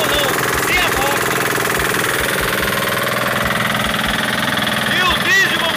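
A Brazilian-made Toyama diesel engine runs on a fishing boat, a loud steady chugging drone with rapid regular knocking pulses throughout, as someone talks over it.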